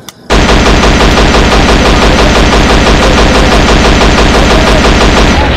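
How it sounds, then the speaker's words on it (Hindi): Loud, continuous machine gun fire bursts in after a brief quiet moment and hammers on without pause, close and dense. "सर जी संभल के, गोलियां चल रही है सर।"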